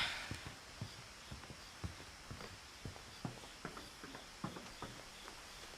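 Footsteps in What Remains of Edith Finch, a steady run of soft, evenly spaced thuds over faint room tone, close and fairly quiet with no talking.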